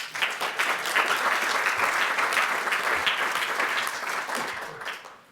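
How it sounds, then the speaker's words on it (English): An audience at the East Forest Park Library grand opening breaks into a full round of applause, a dense, lively clapping that swells quickly, holds for several seconds and tapers off at the end. "So I just want a round of applause for all of you that are here today."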